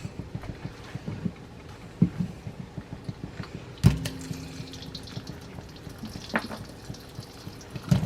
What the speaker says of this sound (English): I'm going to add more oil. I'm going to add the onions.